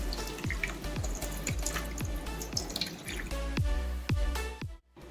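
Water splashes and trickles nearby as chivai greens are swished and rinsed with clean water to remove soil, with repeated drips and sloshes in a loose rhythm.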